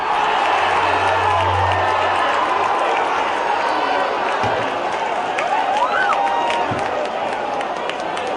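Galo football supporters at Praça da Saudade cheering a goal: a steady, dense roar of crowd noise throughout, with whistles and shouts rising above the mass of voices.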